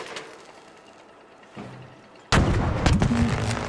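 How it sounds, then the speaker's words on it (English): A grenade is lobbed and explodes in the video game Arc Raiders: after a quiet, faint stretch and a small thud, a sudden loud blast erupts and keeps rumbling and crackling to the end. "Lob a grenade."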